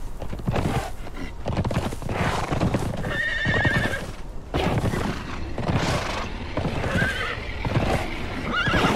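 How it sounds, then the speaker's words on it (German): In the Conan Exiles video game, a horse on a medieval carousel circles and bounces, with repeated heavy hoof thuds in a loping rhythm and a couple of high, quavering neighs cutting through, loud and close. "Es besteht nur aus einem Pferd, was im Kreis läuft und hüpft."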